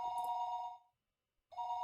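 In Higurashi When They Cry, a telephone gives a clear, warbling ring that stops, falls silent for a moment, then starts the next ring. It sounds close and even, with no talk over it.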